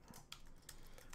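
A few quick, soft keystrokes on a computer keyboard as a password is typed, close but quiet, with short clicks in a brief uneven burst.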